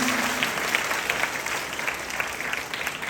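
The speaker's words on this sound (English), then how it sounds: "Give a big round of applause once again for the wonderful performance" Audience applause after a students' performance at a school Guru Purnima celebration, a steady, even wash of many hands clapping that continues throughout without talk.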